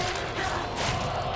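A distant arena crowd cheers and roars in the game Silent Hill f. The noise is a steady, diffuse wash of voices, brief and unbroken.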